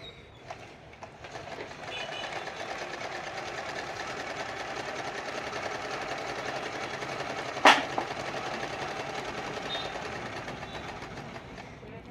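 A budget home sewing machine hums in a steady, fast rhythmic whir through a run of normal stitching, continuous and close, with a brief sharp click partway through.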